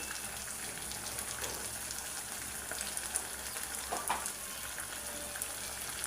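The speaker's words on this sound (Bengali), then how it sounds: "এটা তেলের মধ্যে একটু ভাজিয়ে নিব" A quiet, even sizzle of green chilli, ginger and garlic paste frying in hot oil, with scattered faint pops and crackles and no talking.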